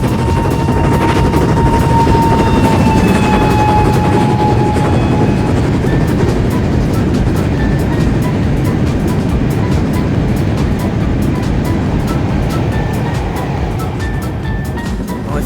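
An LNWR Claughton steam locomotive in Train Simulator Classic runs steadily. It gives a continuous loud rumble with dense rapid clatter and faint whistle-like tones, and no talk over it.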